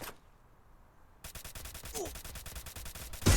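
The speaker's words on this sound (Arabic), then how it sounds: "معايا سلاح رشاش زفت" Automatic machine gun fire in the Free Fire mobile shooter game, a rapid steady burst of loud shots starting after a quiet moment and running to the end of the clip, with no talk.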